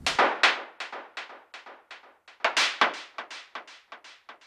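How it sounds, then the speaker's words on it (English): A noise percussion sample from an Ableton kit plays as a steady groove of short, bright, crisp noise hits with quick decays, some stronger accents among softer ones. "Another one, I have a noise percussion."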